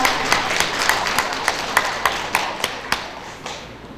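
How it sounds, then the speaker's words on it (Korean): A small audience claps at a book publication ceremony, with a brief scattering of sharp, separate claps that thin out over a few seconds, fairly faint against room noise. "박수 한번 크게 부탁드리겠습니다"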